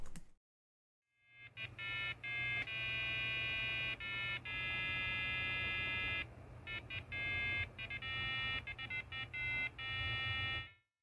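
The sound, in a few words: PC motherboard buzzer beeping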